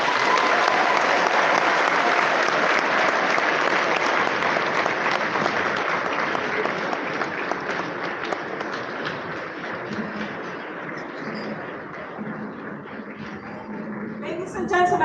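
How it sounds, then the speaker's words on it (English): A conference audience at a Ghana UK diaspora meeting applauds after the Ghanaian president's speech, with steady, dense clapping that slowly thins toward the end. "a round of applause for His Excellency John Dramani Mahama"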